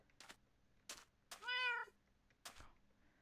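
A pet cat in Minecraft meows several times, short calls spaced apart with one longer drawn-out meow in the middle, close and clear with no talking.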